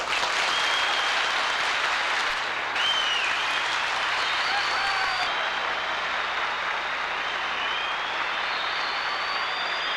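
Graduates at a 1992 systems analysis graduation ceremony applauding their parents; a continuous, even roar of applause from a large hall crowd, sustained for the whole stretch.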